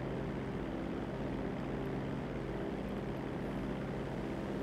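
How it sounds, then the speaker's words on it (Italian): A seaplane flies over the sea along the coast in the GTA video game, its steady propeller engine drone continuous and fairly loud throughout with no talk. "È un aereo di mare che va sul mare"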